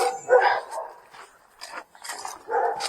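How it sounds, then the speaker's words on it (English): Several dogs bark outdoors near back gardens at night, giving a few loud, close yaps and then a burst of barking with short gaps between the calls. "Lots of dogs, as you can hear."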